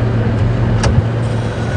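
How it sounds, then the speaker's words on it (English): A safari vehicle's engine idles at a game reserve, a steady low rumble close by with a brief higher blip midway. "Maybe that's just because the engine's running."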